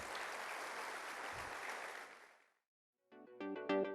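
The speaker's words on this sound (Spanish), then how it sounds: "Dale un fuerte aplauso al Señor." Dense applause at a church worship service fills the first two seconds and then fades out, followed after a brief silence by a few tonal musical notes.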